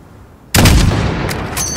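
Single loud rifle shot fired at a target in the Modern Warfare video game, an abrupt close boom with a rolling tail that fades over about a second, with no talk.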